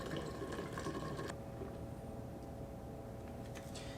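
Liquid pours steadily into a container for a yeast starter, a soft continuous splashing trickle at close range that eases slightly after the first second.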